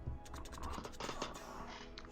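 Quick, light clicks of fingers typing on a computer keyboard, a short irregular burst of keystrokes heard close up and quiet, with no talking.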